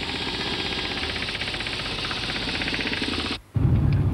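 A Ford Escort shaken on a hydropulse test rig, a loud steady rattling, thumping vibration that cuts out briefly and then resumes with a heavier, deeper pounding.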